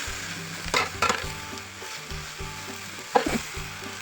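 Chili and red garlic frying in a pan, a steady sizzle broken by a few sharp bursts of stirring and crackle, close and fairly quiet with no talking.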